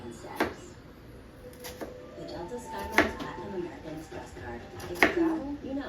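Knife chopping food on a cutting board during dinner preparation, a few sharp, irregular chops spaced about a second apart, close by, with faint kitchen background noise.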